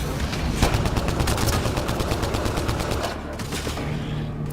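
Rapid automatic gunfire in the Mass Effect Andromeda video game, a dense close burst of shots that runs steadily for several seconds, with a brief thinning near the end and faint voices underneath.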